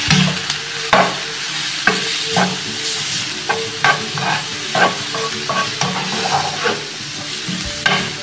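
A garlic-powder mixture fries in a pan with a steady sizzle while a utensil stirs it, scraping at a regular, repeating rhythm, close by with no talking.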